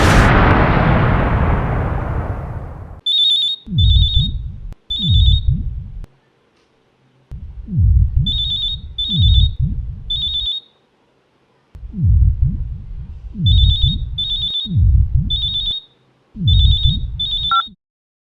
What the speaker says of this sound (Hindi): उस दिन जब फ़ोन की घंटी बजी